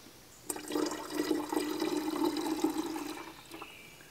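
Liquid glugging steadily out of a bottle into a container for about three seconds, close and fairly loud, starting abruptly and tapering off with a final splash, no voices.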